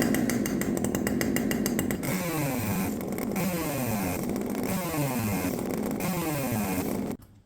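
Husqvarna 550XP chainsaw with advanced ignition timing and a modified carburetor, running close and loud at steady high revs with rhythmic rising bogs as the chain cuts into wood, then cutting off at the end.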